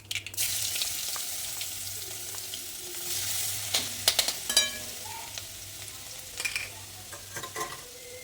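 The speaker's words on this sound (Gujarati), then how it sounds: "ગેસની ફ્લેમ સ્લો કરી લસણની પેસ્ટ ઉમેરી દઈશું" Garlic paste hits hot oil with cumin and asafoetida in a pan on low flame, a close, steady sizzle with a few sharp spatters and clinks of stirring.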